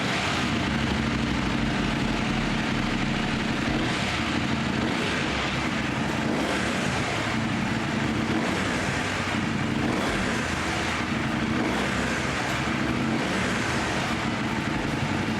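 A 2020 KTM 790 R Adventure with a two-cylinder engine runs with a rough, loud, continuous drone, pulsing slightly as the revs rise and fall, close to the microphone with no voices.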